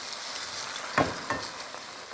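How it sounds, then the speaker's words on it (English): Coconut milk hits a hot pot for Jamaican-style steamed fish cooked down, giving a steady soft sizzle with two brief louder bursts of splashing and frying near the middle, no voices. "I'm gonna put my coconut milk right into the pot"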